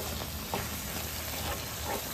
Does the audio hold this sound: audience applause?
no